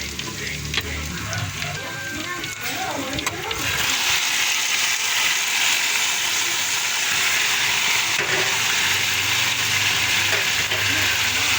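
Ricado aromatics sautéing in a pan for balbacua, a steady close sizzle that swells louder after the first few seconds and holds evenly, with faint stirring scrapes early on.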